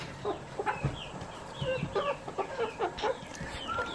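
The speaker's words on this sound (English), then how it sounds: "sure are pretty birds" Backyard chickens clucking at night during feeding chores: several birds making short, overlapping clucks and soft calls in a steady chatter, fairly close, with no talking.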